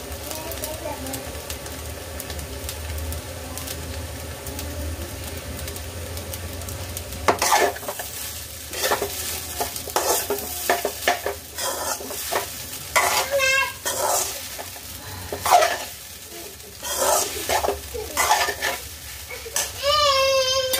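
Fried rice sizzles in a hot pan while a utensil scrapes and clinks against the metal, stirring in irregular bursts, with a voice heard briefly.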